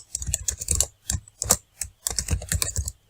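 Code being typed on a computer keyboard: quick bursts of close keystrokes with brief pauses between, fairly quiet, no speech.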